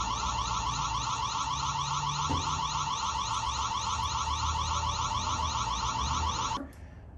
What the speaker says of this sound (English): If you click a button, an alarm will go off